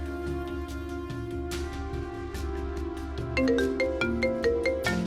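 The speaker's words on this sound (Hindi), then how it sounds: "छोटी का फोन" A phone ringtone plays a repeating electronic melody, steady and fairly loud, with the tune shifting to brighter chiming notes partway through.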